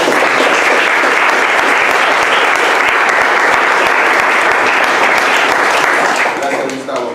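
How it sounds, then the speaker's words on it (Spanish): Loud, sustained audience applause greeting a speaker at a business event, a thick continuous roar of clapping that fades slightly at the end. "por favor le voy a pedir un fuertísimo aplauso para recibir el doctor Alberto Peña"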